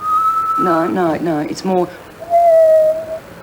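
A voice imitates a whistle from under a car bonnet, with a long steady whistled tone, then warbling whistles, then another sustained tone, as talk breaks in between.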